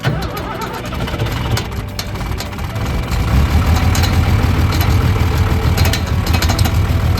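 John Deere 3140 tractor idling after a long warm-up, a steady low diesel rumble that grows slightly louder partway through, heard up close with no talking.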